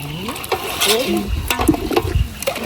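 Squid pieces go into a bubbling Jaffna-style odiyal kool seafood soup with stingray already added, bringing stirring, splashing and sizzling clatter in a pot, loud and close throughout.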